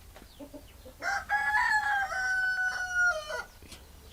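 A rooster crows once, loud and close, in a long drawn-out call, with a few short hen clucks just before and after it.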